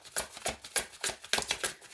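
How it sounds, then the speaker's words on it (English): Tarot cards being shuffled by hand at close range, a quick series of papery riffles and slaps in an uneven rhythm with no voices. "keep in mind I do shuffle on camera"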